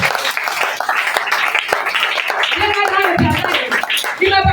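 A church congregation claps and cheers in praise, with scattered sharp claps building into lively mixed applause and excited voices throughout.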